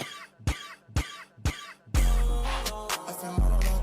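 A person in a played song coughs after smoking: four sharp, evenly spaced coughs, close and loud, followed by a dense burst of music.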